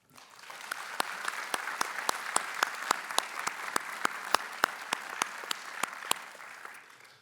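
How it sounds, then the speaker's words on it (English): A final round of applause for university investiture honorees, even crowd clapping that swells in and holds steady, with sharper individual claps standing out before tapering at the end. "maybe one last round of applause for all of today's honorees"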